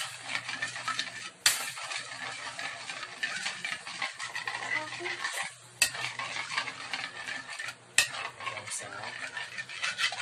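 A spoon stirs a chicken and vegetable ball mixture with water and chicken cubes in a pot. The scraping and sloshing is continuous, with a few sharp clinks against the pan and a brief voice.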